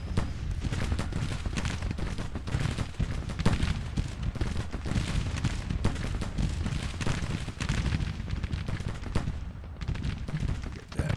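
Dense, continuous musket gunfire from a Civil War battle in a video game, overlapping volleys and crackling shots with low booms, loud and unbroken with no clear pauses.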